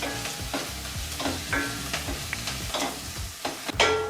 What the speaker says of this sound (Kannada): ಈಗ 30 ಸೆಕೆಂಡ್ಗಳ ಕಾಲ ನೀಟಾಗಿ ಎಣ್ಣೆಯಲ್ಲಿ ಫ್ರೈ ಮಾಡ್ಕೊಳ್ಳೋಣ